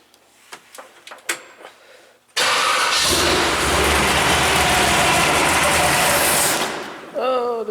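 A 1968 AMC Javelin junkyard car with a 454 V8 cranks and roars into a loud, steady close-up run for several seconds, then dies off, with a voice over it.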